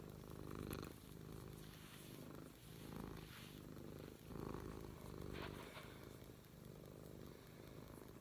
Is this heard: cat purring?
yes